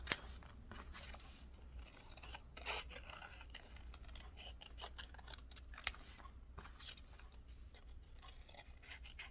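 Scissors cutting butterfly tattoo sticker sheets for a herbarium craft, heard as quiet, close snipping and rustling of paper in irregular short strokes throughout.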